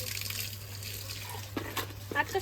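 Tap water rushes steadily into a container to wash fish, a close, continuous pour over a low electrical hum, with faint voices in the background.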